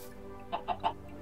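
A chicken in the blocky survival game Terrafirmacraft gives three quick, faint clucks in a row over a quiet background, with no one speaking.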